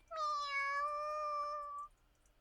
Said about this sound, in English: Eru meows into her ear.